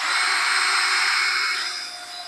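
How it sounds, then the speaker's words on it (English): A fixed drill bit bores through the center of a wooden dowel being rotated by hand for piano let-off buttons, a steady close whine that fades slightly toward the end. "in the center is the drill bit, just permanently mount over there"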